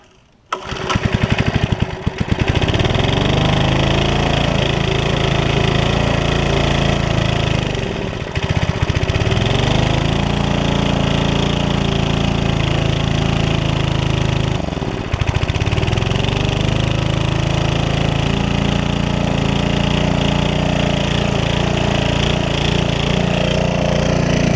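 A 1985 Briggs & Stratton small engine with magneto ignition drives a Teel centrifugal water pump, running loud and steady close by with a droning, lawnmower-like hum and brief dips in speed.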